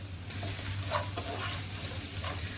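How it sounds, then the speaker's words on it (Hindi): Chopped onions frying in hot oil in a pan for a cabbage and mince dish, with a continuous close hiss and sizzle and a few soft stirring scrapes, no voices. "प्याज को मैं कर लूँगी फ्राई"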